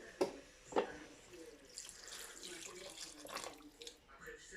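Tap water runs briefly into a pot for a squash soup broth, a soft splashing stream with a couple of sharper knocks near the start, heard close in a kitchen.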